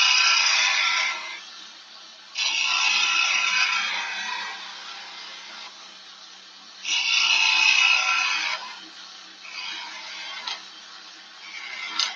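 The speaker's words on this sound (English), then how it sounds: "So now we're going to try and form a ball with the" A skew chisel shapes a wooden ball on a lathe, giving repeated scraping cutting passes that swell and fade in long strokes over the lathe's steady hum, close and moderately loud, with no talking.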